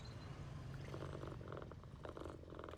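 A cat in PowerWash Simulator 2 purrs close and steady in a soft, rhythmic, rumbling pulse, with faint background sounds and no talking.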